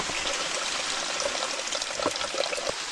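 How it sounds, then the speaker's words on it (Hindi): Water poured out of a pot lid at a snowy winter campsite, a steady close splashing trickle lasting the whole moment with no voices. "ढक्कन का पानी डालना"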